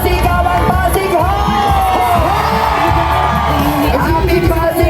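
Pasig Day parade crowd on a street in Pasig, shouting and whooping together in a loud, sustained roar of many voices close by, with yells rising over the din.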